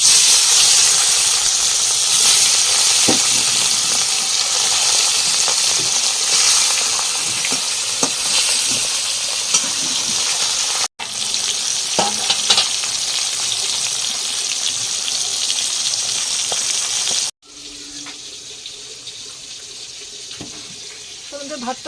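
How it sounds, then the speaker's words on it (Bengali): Fish pieces frying in hot oil in a home kitchen, with a fish head to be fried as well, giving a loud, steady broadband sizzle that continues throughout, with brief cuts and a slightly quieter final stretch. "আমার তেলটা গরম হয়ে গেছে আমি এখন মাছগুলো ছেড়ে দেবো"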